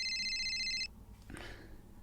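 A mobile phone ringtone sounds as a short, bright electronic trill that cuts off abruptly, followed by a soft rustle and then near silence.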